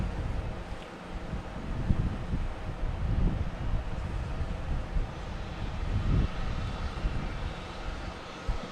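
Alaska Airlines airliner arriving from Portland to land at Boston Logan, a steady broad roar of jet engine noise with wind buffeting the microphone throughout, sustained and fairly loud without talk.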